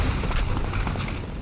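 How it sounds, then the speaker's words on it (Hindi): A grenade goes off in the PS2 first-person shooter Cold Winter, a dense, rumbling blast that fills the whole clip with sustained low booming and crackle, loud and close, with no clear voice over it. "अरे ग्रेनेड कौन फेंक रहा है भाई"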